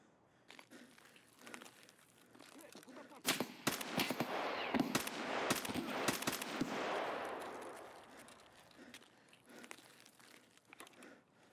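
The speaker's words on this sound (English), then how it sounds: "Holy crap, that's a sniper." Gunfire in the video game Escape From Tarkov, with a dense burst of sharp shots in the middle and a few scattered cracks before and after, fairly loud against a quieter game background.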